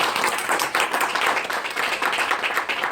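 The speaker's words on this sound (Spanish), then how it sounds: "यीशु के नाम के लिए तालियां बजाएं।" A church congregation claps continuously, dense overlapping applause from many hands filling the room without pause.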